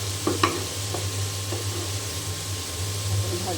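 Vegetable bhaji stirred in a frying pan, a few scraping spoon strokes over a steady low sizzle and a constant background hum, fairly close and moderate in level.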